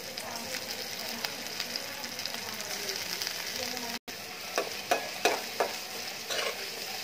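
Mixed dried fish fries with onion in a pan, giving a steady crackling sizzle with scraping stirs, and a string of louder stirring strokes after a brief gap; no talking.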